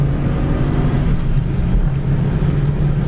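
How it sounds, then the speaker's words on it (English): A 1967 Ford Mustang coupe accelerating hard in second gear, a steady, loud low engine drone with wind rush over it. The tire squeal is not clearly picked out, and no one speaks. "Second gear, tire squeal."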